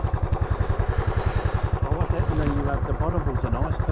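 A Royal Enfield Classic 500 fuel-injected single-cylinder bike idles close by with a steady, even low thump, while a person's voice talks over the engine.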